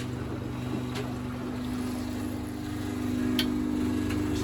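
A Miele WFP3300 washing machine takes in water during a citric acid descaling run, a steady low hum with a faint rushing flow that swells slightly toward the end, with a few soft clicks.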